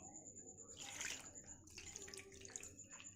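Chhena for rasgulla is rinsed by hand in water. Faint splashing and swishing comes in short bursts, quiet and close.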